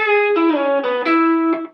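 Electric guitar solo phrase from a song, a short run of sustained notes with string bends and a release, slightly overdriven, close and alone.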